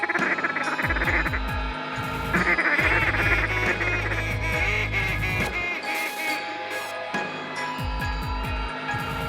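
A flock of ducks quacks loudly and continuously around a hunting blind, many overlapping calls close by, some honking goose-like notes mixed in, with no talking.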